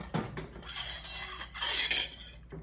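Metal utensils clink and scrape against a pan while cheesy Philly cheesesteak pasta is served up, a few close scoops and clatters with a louder burst of scraping near the end.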